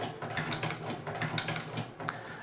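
A Singer Patcher 29k leather sewing machine with a walking foot runs in a steady, fast mechanical clatter of repeated stitching ticks over a low motor hum, close and continuous.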